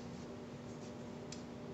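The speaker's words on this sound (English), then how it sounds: "Now I'm going to mark this pipe" A pen marking a pipe for a wheelchair stroller attachment: a soft, steady scratching of the pen tip on the pipe surface, close and quiet, with a faint hum underneath and no talking.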